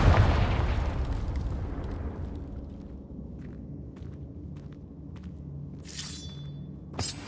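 A Confringo fire spell blasting in the cavern of Hogwarts Legacy, heard as a loud, close, booming explosion that decays into a long rumble, followed by faint footsteps and a sharp pop near the end.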